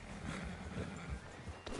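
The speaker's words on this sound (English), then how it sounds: "Is that horse okay, Arthur?" Horse in the video game Red Dead Redemption 2, heard as a steady run of hoof clip-clop and snorting close up, continuous and fairly loud with no talk over it.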